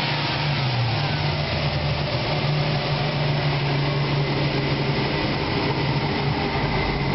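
A 1949 Plymouth business coupe fitted with a 3.2 SHO V6 and a new single exhaust runs with a steady, moderate low drone and a constant hum, no revving, alone and unbroken throughout.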